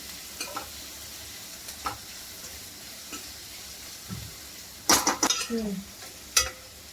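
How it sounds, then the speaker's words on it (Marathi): Onions frying on low heat crackle softly while a spatula scrapes and knocks against the pan in a few sharp bursts, louder clattering near the end, with no talk. "कांदा पण चांगला भाजून घेऊया आपण बारीक गॅस करून"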